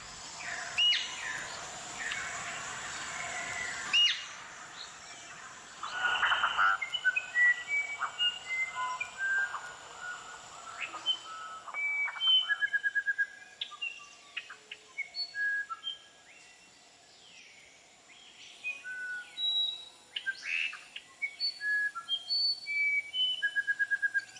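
Clear whistled songs and chirps of red-headed manakins in the Brazilian Pantanal repeat in short phrases against a quiet forest background, with a brief rustling noise early on.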